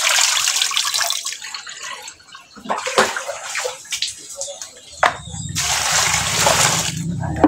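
Tap water runs and splashes as fern vegetables are washed, a loud, steady rush that dips midway and then surges back, close by.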